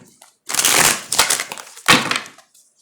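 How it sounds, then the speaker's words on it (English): Tarot cards shuffled by hand in three short, crisp riffling bursts, close and moderately loud, with no talk. "one more shuffle, please."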